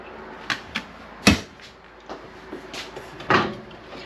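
Wood core cabinet doors in a 2025 Grand Design Imagine XLS 22BHE travel trailer are opened and shut several times nearby, giving sharp knocks and soft thuds at irregular intervals, with one louder bang.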